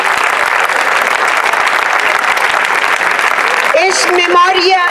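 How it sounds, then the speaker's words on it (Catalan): Loud, dense applause from a large crowd fills most of the clip, with a voice rising over it near the end. "un fort aplaudiment per ella."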